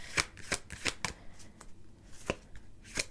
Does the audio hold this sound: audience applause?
no